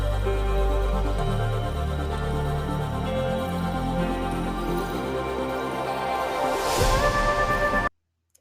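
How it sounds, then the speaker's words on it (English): A vocal in an electronic track's breakdown section stutters with glitch effects over sustained synth layers, loud and full, before the music cuts abruptly to silence near the end. "you hear the glitching in this vocal now."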